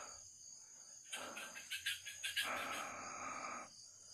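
A thin, whining mosquito buzz drones at night among a dense cluster of banana trees, rising for a few seconds with wavering pulses over a constant high insect hum.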